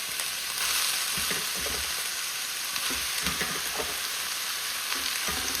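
Squid dropped into a pan of browned onions crackles and sizzles loudly and continuously, with scattered stirring scrapes and no talking.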